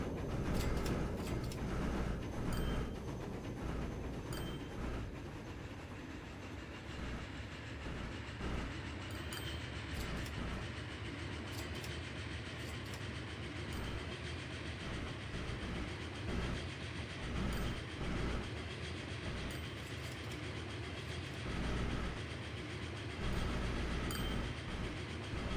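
A train rolls along the tracks in the video game Transport Fever 2, a continuous low rumble with faint rhythmic clicking. It is steady throughout, heard alone with no voices.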